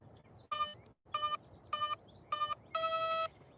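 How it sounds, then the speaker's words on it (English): An electronic speed controller on a model plane beeps for its 4-cell battery outdoors: a quick run of short, bright electronic tones ending in one longer sustained beep, with faint background noise between them. "it's a 4-cell battery. It beeps 4 times."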